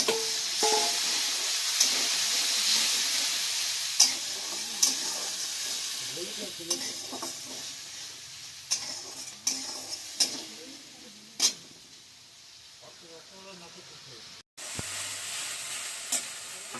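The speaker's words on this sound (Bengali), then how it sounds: "আদা পেঁয়াজের পেস্টের সাথে সামান্য একটু জল দিলাম।" Ginger-onion paste frying over lowered gas with a little water added, a continuous hiss and sizzle broken by sharp spatula clicks against the pan and a short dip near the end.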